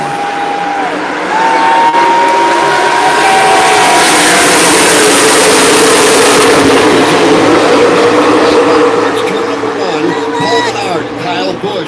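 NASCAR stock cars at Daytona roar in a dense, continuous pack as the green flag drops, a loud sustained engine wash under excited race commentary.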